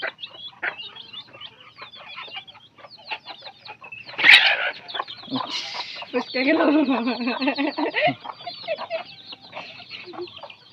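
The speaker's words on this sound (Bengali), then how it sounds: "দেখেন কিভাবে মুরগি ধরা হয়" Chickens being caught in a chicken-catching competition cluck and squawk in an agitated flurry, with one sharp, loud squawk partway through and frantic cackling afterward, voices murmuring nearby.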